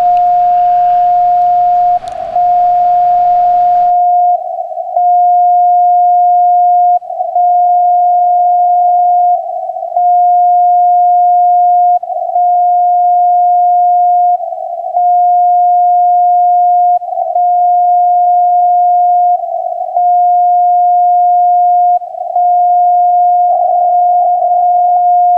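A steady single CW radio tone bounced off the moon holds loud and unbroken, with slight periodic wavering in strength and a brief burst of static at the start.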